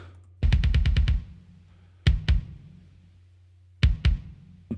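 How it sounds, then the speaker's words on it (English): Punchy kick drum hits, first a fast run of about six, then pairs of deep thumps with ringing tails, loud and close with no other instruments. "So the main kick sounds a bit like this."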